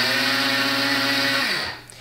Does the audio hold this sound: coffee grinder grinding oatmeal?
yes